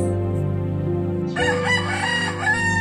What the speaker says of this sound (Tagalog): Ang tilaok ng manok na siyang musika sa aking tenga at ang gumigising sa aking mahimbing na pagtulog sa umaga.